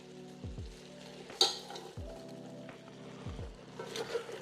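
Shredded carrots, onions and potatoes frying in a pot, with a steady sizzle broken by a few dull thumps and scrapes as the vegetables are added and stirred, and one sharp clink of utensil on metal.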